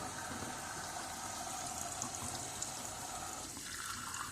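Water runs steadily from a tap fed by a tankless water heater, a constant close rushing hiss with a slight shift in tone near the end and no talking.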